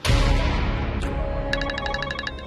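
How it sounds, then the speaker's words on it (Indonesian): Mobile phone ringing with a rapid electronic ringtone pattern of repeated bright beeps that starts partway through, following a louder burst of sound at the beginning, with no speech. "Itu HP kamu bunyi."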